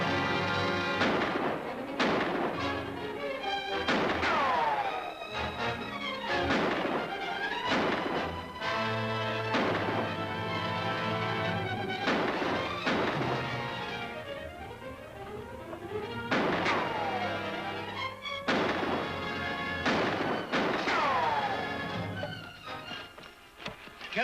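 Kegs of coal oil blowing up amid gunfire in an old western serial action scene, a dense run of loud booming blasts and sharp shots repeating irregularly throughout, with clanging echoes and no clear voices.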